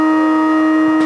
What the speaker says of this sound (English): it's almost as if the siren put him off a little bit, Sam Monaghan